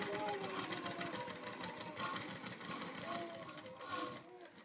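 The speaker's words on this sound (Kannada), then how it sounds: "ನಿಧಾನಕ್ಕೆ ಸ್ಟಿಚ್ಚನ್ನು ಹಾಕೊಳ್ಳಿ." Sewing machine stitching along the edge of an embroidered blouse, a steady rapid mechanical whirr running near and continuous, easing slightly toward the end.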